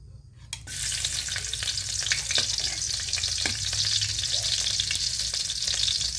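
Garlic hits a hot pan and sizzles steadily, a bright continuous frying hiss with occasional crackles and scrapes of stirring, close and alone without talk.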